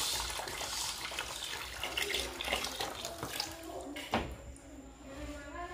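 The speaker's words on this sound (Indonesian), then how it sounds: "Kita tunggu sampai airnya benar-benar terkuras habis." Water drains out of an aquarium with a continuous rushing, gurgling flow, moderately loud and close, with a brief splash near the end and a voice speaking over it.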